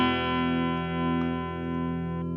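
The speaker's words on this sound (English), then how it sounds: "But the British Invasion also has some really good dirty tones too." An electric guitar plays through a Hotone British Invasion amp with the gain turned up, a single sustained distorted chord ringing out steadily with rich overtones and slowly fading, no voices.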